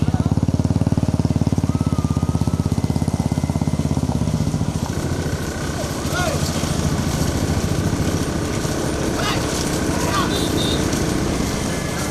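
Revving light engines of motorbikes running alongside a bullock cart race, a loud steady drone that shifts pitch midway, with people shouting over it.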